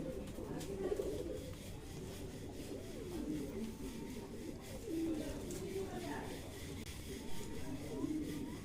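Pigeons in a loft coo softly and repeatedly, low rolling calls that overlap throughout against a faint rustling background.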